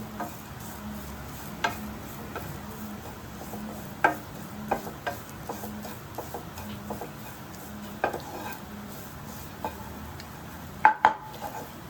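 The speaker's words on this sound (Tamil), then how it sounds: "கை விடாமல் கிளறிக்கிட்டே இருங்க, ஏன்னா அப்புறம் தீஞ்சு போயிடும்." Masala roasting in a pan is stirred continuously, soft scraping with a faint sizzle underneath and occasional sharper utensil knocks against the pan, close and moderately quiet.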